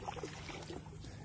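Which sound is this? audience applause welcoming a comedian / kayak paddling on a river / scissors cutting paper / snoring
kayak paddling on a river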